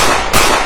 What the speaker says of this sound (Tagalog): Nasundan pa to ng ilang putok.